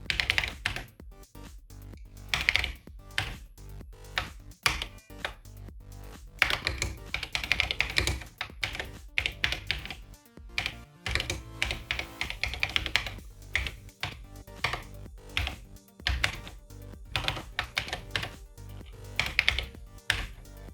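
Rapid typing on a TI-99/4A home computer keyboard fitted with a new replacement PCB, with dense, steady key clicks and clacks running close and clear throughout, no voices.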